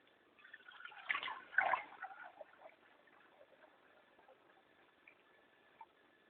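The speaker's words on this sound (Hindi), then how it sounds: "अभी मैं इसमें ताज़ा पानी डाल रही हूँ, ठंडा पानी, बर्फ़ वाला।" Cold iced water is poured into a pot outdoors in a village, making a short, faint burst of splashing and gurgling that fades into light trickles and drips.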